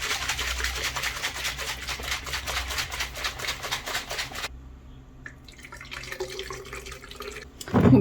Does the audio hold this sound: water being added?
yes